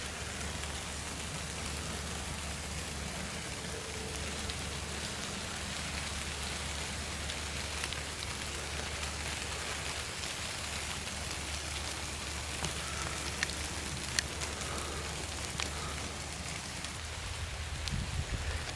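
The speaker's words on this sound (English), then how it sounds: "You just hear that rain. Oh God, I think it's getting harder." Steady rain falls around a cemetery in a metropark near Toledo, a dense broadband patter of drops on wet surfaces with a constant low rumble, growing slightly stronger toward the end, with no voices.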